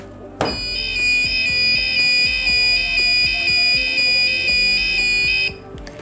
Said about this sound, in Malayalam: വീണ്ടും ടാപ്പ് ചെയ്യണമെങ്കിൽ വീണ്ടും അലാറം അടിക്കും.